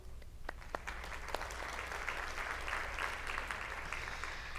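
Audience at a FIFA women's football symposium applauding, starting with a few scattered claps that build into a steady round of clapping, moderately distant over a low hum.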